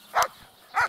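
A working dog being wound up before a training competition gives two short, sharp barks about half a second apart, loud and close, with quiet in between.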